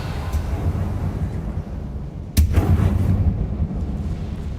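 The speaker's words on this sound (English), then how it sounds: "我很喜欢它燃烧之后那个音效，蹦蹦" Confringo fire spell blasts in Hogwarts Legacy gameplay, a sudden booming explosion midway with a dense rumbling burst that lingers over continuous low battle noise.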